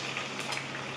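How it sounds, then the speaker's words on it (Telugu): Onions frying in oil in a pan, browning: a steady, dense sizzle and crackle, close and even throughout the short moment. "ఆనియన్స్ వేయించుకున్నానండి. బ్రౌన్ కలర్ వచ్చేదాకా వేయించుకోవాలండి ఆనియన్స్."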